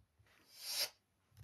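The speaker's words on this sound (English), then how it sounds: "A reverse cymbal." A reverse cymbal effect in an EDM breakdown swells from near silence into a bright hissing wash that peaks sharply, then cuts off, rising over roughly a second with faint low thumps before and after.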